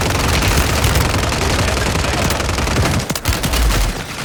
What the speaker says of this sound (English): Somebody else shooting at me.